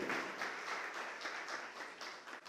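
A church congregation applauding together, a steady wash of dense clapping that holds at an even level throughout, with no voices over it.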